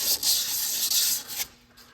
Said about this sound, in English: I can take some emery cloth, clean this all up